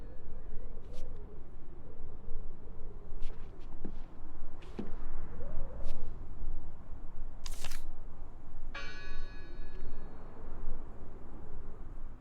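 In the game Draugen, a single bell rings out late with a ringing, overtone-rich tone over a low ambient rumble, preceded by scattered faint clicks and knocks.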